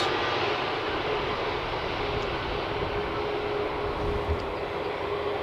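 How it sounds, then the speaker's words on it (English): A Pegasus Airbus A320neo lands at Amsterdam Schiphol, its engines giving a steady, fairly quiet roar heard from a distance. "The A320neo from Pegasus. Very quiet."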